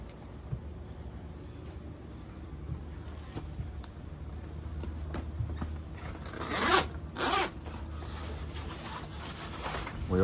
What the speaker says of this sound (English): We open up the helm cover.